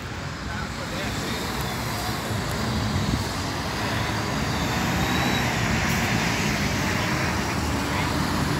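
Expresso Nordeste intercity bus pulling into Indaiatuba bus station in São Paulo, a loud engine rumble and road noise that swell slightly as it arrives, with a station-bustle background.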